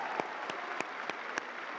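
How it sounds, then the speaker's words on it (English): Audience applause at a university commencement ceremony, a steady wash of clapping from a large crowd with a few sharper claps standing out, sustained throughout. "Let's give them one more round of applause"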